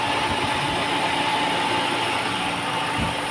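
A Toyota Vios, about a 2005 model, idles with the hood open, a loud, close, steady engine hum and hiss holding even throughout with no change in speed and no voices.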